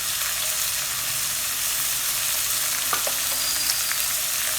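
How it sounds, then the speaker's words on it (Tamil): Green chillies sizzle steadily in a hot pan for Tamil egg curry, a loud continuous frying hiss with faint stirring scrapes throughout and no voices. "நல்லா வதக்கிக்கலாம். இதை ரெண்டு பச்சை மிளகாய் வச்சுருக்கேன்,"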